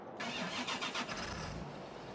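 Tractor engine in Farming Simulator 2013 cranking and catching, then settling into a steady, fairly loud running drone with no talk.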